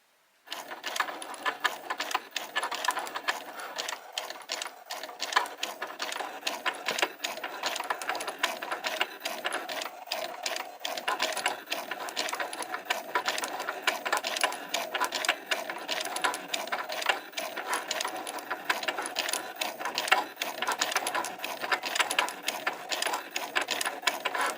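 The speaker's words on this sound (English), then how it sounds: "I'm just going to hit the button that puts the mat into the machine, and now I'm going to hit go and get that one cut" A Cricut cutting machine slicing through cardstock, a steady mechanical whirring and rapid clicking that carries on evenly for over twenty seconds, close and moderately loud with no talking.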